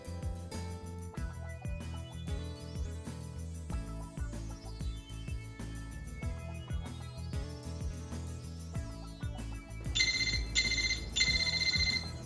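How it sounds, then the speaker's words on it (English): Locator alert sounding from a hidden Zebra device triggered through Device Guardian, a bright repeating electronic ringtone-like tone in short bursts over background music, loud and close near the end. "With a simple press of a button, a sound is triggered from the hidden device that guides you to the location."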